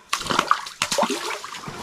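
Splashing lake water as a small burbot is released by hand back into a northern Manitoba lake, two bursts of close splashing and dripping water, with no talk.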